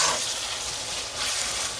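Ackee and saltfish stirred in a sizzling pan, giving a steady bright frying hiss with soft scraping as the mixture is turned. It is close and continuous, with no talking.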